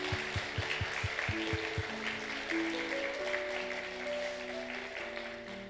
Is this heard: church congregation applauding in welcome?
yes